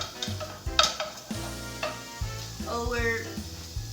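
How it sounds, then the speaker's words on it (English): Salsa ingredients, including onions, garlic or shallots, sautéing in a pan, with a steady sizzle under repeated stirring and scraping clicks of a utensil against the pan, close by, alongside a low rumbling background and no talk. "We're going to have some saute going over here."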